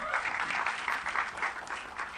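Audience applause at a Mary Kom trailer launch, a dense, steady round of clapping from a crowd, fairly close and continuous for a couple of seconds.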